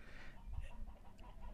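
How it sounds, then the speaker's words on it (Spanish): A rooster and hen clucking outdoors in rural Valparaíso, Zacatecas, Mexico, with a few faint, short clucks over low wind rumble and background noise, fairly distant and quiet. "allá va el gallo y la gallina, se escuchan"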